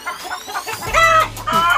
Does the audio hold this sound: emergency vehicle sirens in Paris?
no